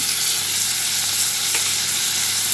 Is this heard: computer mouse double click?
no